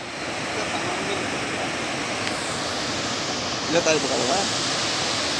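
A waterfall near a village gives a constant broadband roar that stays even throughout, with a brief voice near the end.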